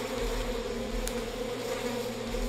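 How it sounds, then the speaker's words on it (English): Bees buzz steadily in the video game We Happy Few, a continuous low insect drone at moderate level with no talk over it. "Bees."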